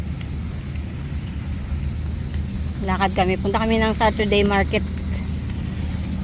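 Street traffic rolls past in a steady, fairly loud low rumble of vehicles while a person talks over it partway through.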